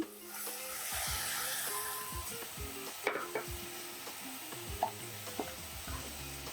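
Tomato pieces hit a sizzling pan for veg fried rice, a soft steady hiss broken by scraping stirs and a few sharp clinks of a spatula against metal, with no talking.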